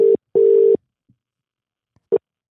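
Phone tones sound over a call, with two steady beeps followed by a short third one after a pause. They are loud and close, with no talking.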